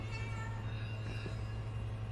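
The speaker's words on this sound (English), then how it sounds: "There's a cat." A cat meows in a scene from the horror film Paranormal Activity 4, a faint, brief call over a low steady hum.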